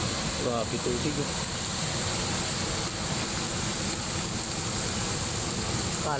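Strong water released from Bustos Dam rushes in a constant, loud roaring wash, broadband and unbroken like heavy surf, with a voice briefly audible early on.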